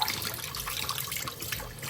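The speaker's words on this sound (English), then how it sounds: "for now, I'm just gonna do a cold water rinse" Cold tap water runs over Invisalign aligners being rinsed at a sink, a steady, fairly quiet splashing stream with no talking.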